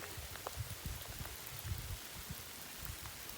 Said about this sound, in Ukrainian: Дощ іде, цілу ніч ішов